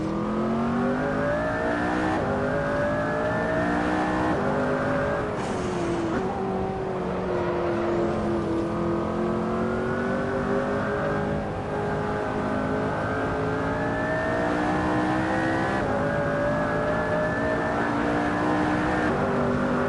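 The Porsche Widowmaker race car in Assetto Corsa, its engine revving hard and steady, pitch climbing and falling through gear changes as it drives, loud and continuous with no talking.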